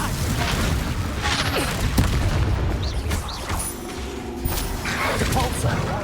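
Spell blasts from the Confringo fire curse go off during a Hogwarts Legacy duel, repeated booming explosions and thuds mixed with clashing magical effects, under a dense, busy combat soundscape.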